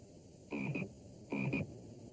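A frog croaks twice in a slow, evenly spaced pair of buzzy, throaty calls, each about a third of a second long, close and clear over faint background hiss with no talk.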